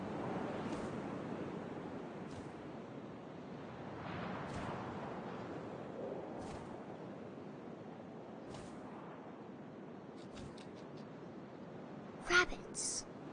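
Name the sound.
wind blowing, from the video game What Remains of Edith Finch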